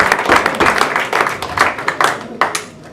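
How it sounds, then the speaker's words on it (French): At the official presentation of the R. Aywaille FC amateur football teams, a small indoor audience applauds a player. The clapping is close, uneven and moderately loud, and it tapers off over a few seconds. "On peut applaudir William"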